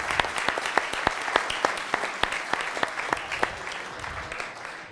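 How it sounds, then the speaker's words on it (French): Audience applause at a film screening, a steady patter of many hands clapping with sharp individual claps standing out, fading slightly toward the end. "Oui, vous pouvez l'applaudir."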